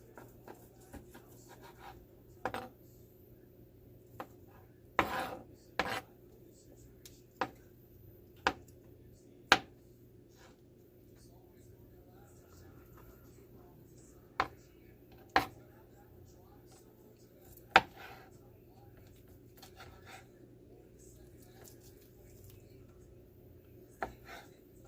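A sharp knife chopping chicken salad ingredients on a board, sparse single sharp cuts spaced a few seconds apart over a quiet background, some faint voice murmurs in between.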